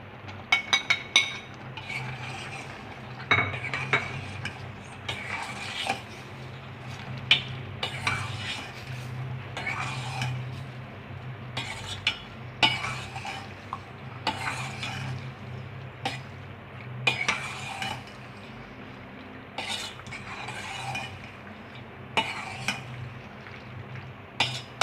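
Pasta tossed and stirred with chicken in a pan for a white sauce chicken pasta, a soft simmering sizzle broken by repeated clinks and scrapes of a utensil against the pan at irregular intervals.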